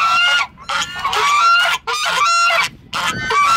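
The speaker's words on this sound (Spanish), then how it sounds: "Estos son más conocidos, son los gansos." Loud, harsh goose honks come in several bursts with short silent gaps between them, as if a few geese are calling close by at a zoo in Mexico.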